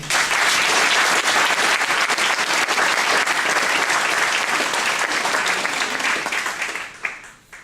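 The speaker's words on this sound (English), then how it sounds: "Please give them a round of applause." A large audience at a guide dog school graduation applauds the puppy raisers, loud sustained clapping holding steady for several seconds before tapering off at the end.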